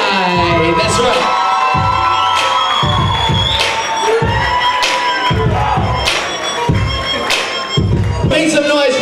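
Wedding guests at Chateau Brian cheer, whoop and shout over loud party music with a strong beat, the crowd noise swelling in bursts throughout.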